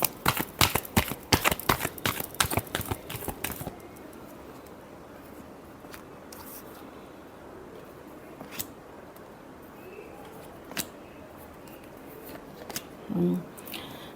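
Tarot cards riffled and shuffled in a fast flurry of crisp snaps lasting a few seconds, then a few scattered soft flicks and taps close by.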